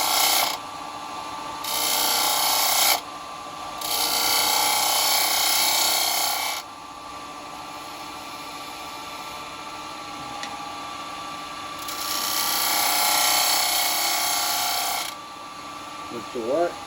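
A spindle gouge cuts the front edge of a Bubinga bowl spinning on a wood lathe, giving bursts of loud scraping and whirring separated by the quieter hum of the running lathe.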